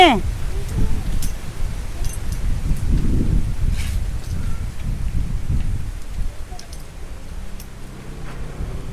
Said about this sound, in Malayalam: കാറ്റ് വീശല് ചില്ലറയെന്നല്ല നല്ല രീതിയിൽ കാറ്റ് വീശുന്നുണ്ട്